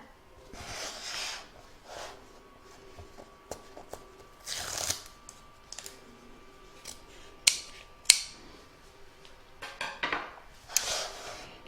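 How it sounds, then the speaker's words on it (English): Scissors trimming excess fabric a quarter inch from a stitch line for an in-the-hoop scissor holder and pin cushion, heard as several brief, close snips and rustles spread out over a quiet stretch. "I'm going to trim back to about 1/4 of an inch of the stitch line there."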